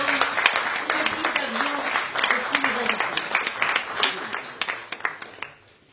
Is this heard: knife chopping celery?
no